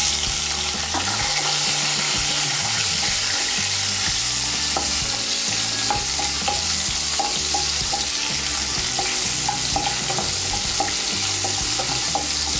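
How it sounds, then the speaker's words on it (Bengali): Chopped tomato sizzles loudly on frying spices in a pan for a vegetarian paneer and pointed gourd dish, with a steady crackle and repeated stirring scrapes throughout and no voices. "ফোড়নগুলোর থেকে যখন একটা সুন্দর গন্ধ বেরোবে তখন এর মধ্যে আমি দিয়ে দেব টমেটো কুচি"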